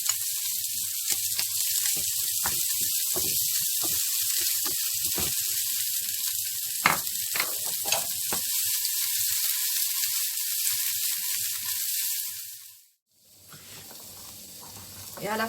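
Garlic frying in a pan, a continuous bright sizzle with scattered crackles and pops close by, breaking off briefly near the end before the hiss returns; no talk.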